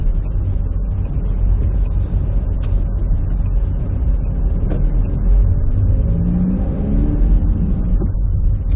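A car pulling away in first gear during a driving lesson, heard from inside as a loud, steady engine rumble whose pitch rises slowly as the engine revs, with no talk.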